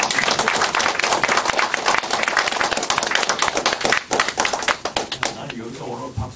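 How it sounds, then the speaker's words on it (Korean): An audience at a patriotic lecture gathering breaks into brisk clapping that fades out after about five seconds, with a voice speaking over it and continuing alone afterward. "여기서 박수 한번."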